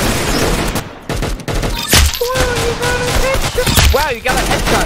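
Rapid bursts of gunfire and explosive blasts from the Roblox shooter game Arsenal, loud and dense, mixed with game sound effects and chiming tones, under excited players' talk.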